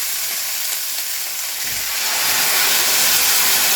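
Onions and tomato fry in a pan for a spinach dish, a dense close hiss and sizzle that grows louder midway as the tomato goes in, steady and without talk.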